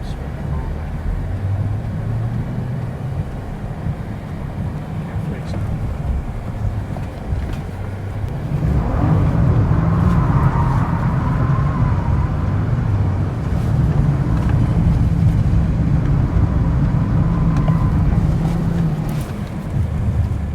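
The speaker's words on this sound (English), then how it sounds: "driving around an abandoned military base in a Conti GT Speed" A Bentley Continental GT Speed drives on gravel around an abandoned military base, a continuous rumble of engine and tyre noise with wind buffeting that swells louder about halfway through.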